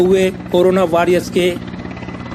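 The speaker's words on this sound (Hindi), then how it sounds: "सेना के हेलीकॉप्टर ने फूलों की वर्षा करते" An army helicopter flies over Patna hospitals during a flower-shower salute, its rotor drone and throb steady in the background beneath a voice talking loudly in the foreground.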